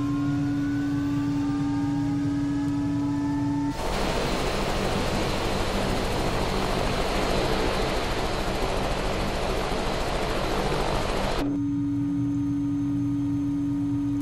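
An Airbus H125 helicopter engine in Microsoft Flight Simulator spools up with a rising whine, then a loud broadband turbine roar cuts in, holds steady for several seconds and drops back abruptly to the whine and a low hum.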